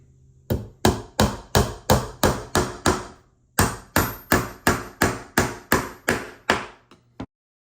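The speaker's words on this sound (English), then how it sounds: "you don't need to see me driving all these nails" Steady, loud hammer blows strike nails into wood, about two per second, with a brief pause partway through before the hammering resumes and ends.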